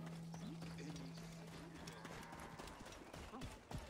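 Quiet rhythmic clip-clop of horse hooves in Assassin's Creed Origins against a steady low hum, with faint game-like mechanical sounds.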